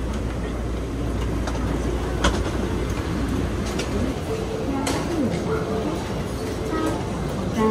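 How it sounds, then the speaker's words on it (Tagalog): An express train rides along the rails, filling the space with a constant low rumble and occasional clattering from inside the carriage, while people talk over it. "nakaabot tayo sa express train"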